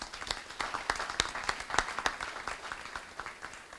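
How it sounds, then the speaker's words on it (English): Sparse applause from a modest audience at a diversity awards event, individual claps distinct and fairly close, tapering off toward the end. "Can we give them another round of applause?"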